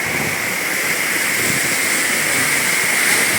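Waterfall at Buruwisan Falls roars in a dense, unbroken wash of falling water, loud and close, holding steady throughout with no voices.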